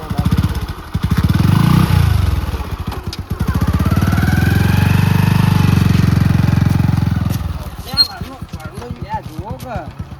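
A motorbike engine drones steadily as it is ridden, loud and near, with a rough low rumble that cuts off partway. People talk over it during the ride.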